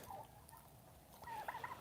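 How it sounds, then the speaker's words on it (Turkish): A broody turkey hen on a small farm gives a few faint, soft calls, quiet chirping notes near the end over a low background. "Bu da en anaç hindilerimden bir tanesi arkadaşlar."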